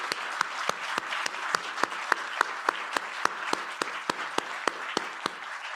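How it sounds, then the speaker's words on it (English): Rhythmic clapping in a steady beat, about three claps per second, with a softer wash of scattered applause beneath, at an award ceremony. "if you'll all join me with just a round of applause"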